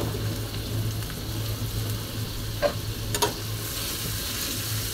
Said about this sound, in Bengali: এইভাবে আমি পেঁয়াজটাকে হালকা ভেজে নিব।